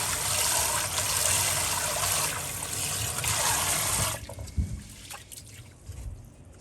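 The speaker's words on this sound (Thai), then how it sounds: "จากนั้นนำข้าวมาล้างค่ะ ล้างสักสองน้ำค่ะ" Rice being rinsed in water in a pot, a steady rushing pour and swishing that stops abruptly, then a few faint clinks and splashes.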